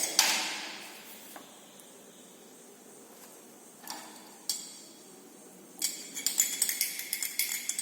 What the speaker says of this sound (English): So after each addition, you have to stir the liquid thoroughly.